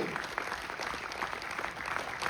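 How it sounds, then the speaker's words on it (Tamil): An audience at a Tamil language festival villu paattu performance claps steadily for young children, a dense patter of applause heard from a moderate distance. "அவர்களுக்கும் நம்முடைய கைத்தட்டல்கள் தொடரட்டும்"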